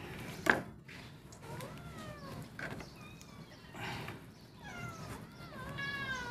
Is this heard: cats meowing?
yes